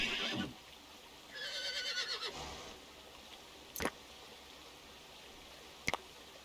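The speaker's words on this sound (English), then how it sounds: "the bear is now killing a horse" A horse whinnies loudly while being attacked by a bear in the video game Dawn of Man. The neigh comes first, followed by a longer, wavering whinny and a few sharp clicks, all heard alone without talk.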